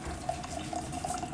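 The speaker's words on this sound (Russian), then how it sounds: "И заливаю горячей водой температурой" Hot water at about 85 degrees pours into a Rawmi tea dispenser kettle, a brief steady splashing trickle with a faint bubbling gurgle, close and even.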